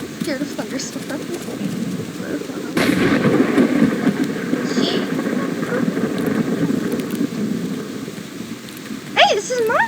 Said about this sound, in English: I'm actually scared of thunderstorms.